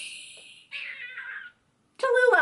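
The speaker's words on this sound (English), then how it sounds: "Oh, that meow!" An eight-week-old kitten lets out several high, drawn-out meows close up, some thin and wavering, the last one louder and more strained, separated by brief silences.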